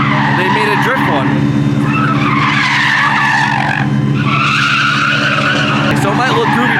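Drifting Ford Mustang Mach-E, an all-wheel-drive electric drift car with over 2,000 lb-ft of torque, screeching its tires in long continuous skids, loud and close amid a busy automotive convention crowd with voices underneath.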